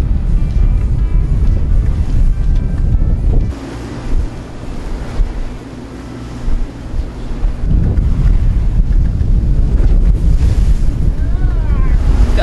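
Choppy sea waves slap and rush around a moving boat while strong wind buffets the microphone, loud and continuous, with a brief lull in the middle before the spray and gusts build again.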